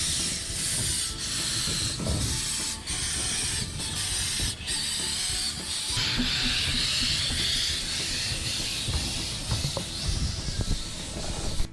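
A double Fairlie steam locomotive on the Ffestiniog Railway hisses loudly and steadily, with rumbling chuffing and rail noise running throughout, close and continuous.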